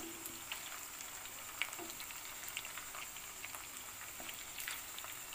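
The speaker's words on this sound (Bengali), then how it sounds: "এবার আস্তে আস্তে এটাকে ফ্রাই, এবার এগুলো আস্তে আস্তে আমি উল্টাবো" Gondhoraj chicken pieces frying in a pan over a low to medium flame, giving a steady, soft sizzle with scattered small pops and crackles throughout.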